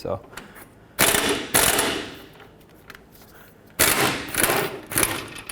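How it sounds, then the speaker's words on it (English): An air impact wrench removes 18mm bracket bolts during a rear wheel bearing job on a 2003-2021 Chevrolet Express 3500 van, firing three loud, close, rattling hammer bursts separated by quiet gaps. "So I'm going to do this one with my air gun"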